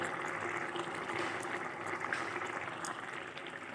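Paneer curry simmering in a pan, a soft, steady bubbling with small pops and sizzles, faint and continuous without talk.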